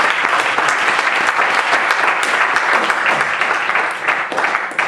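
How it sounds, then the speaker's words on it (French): An audience at an open-mic slam poetry evening at the MJC de Lamballe, France, claps loudly and densely, a close, sustained applause that holds for several seconds. "je vous demande pour ça peut-être de l'applaudir"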